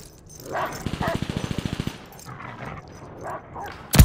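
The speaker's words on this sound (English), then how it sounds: "Attack dogs inbound for you." Attack dogs bark in Call of Duty amid combat: a few sharp barks alongside a rapid, evenly spaced burst of gunfire, then quieter game noise and a loud crack at the very end.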